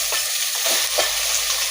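Tomatoes frying in a pan with onion and capsicum, a constant loud sizzle with a few soft stirring scrapes, close up.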